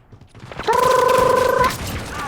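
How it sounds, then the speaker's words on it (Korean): A stun grenade goes off in Call of Duty: Black Ops Cold War, a short thump followed by a loud, steady high-pitched ringing tone that holds for about a second and then fades to a low hum. "기절 수류탄"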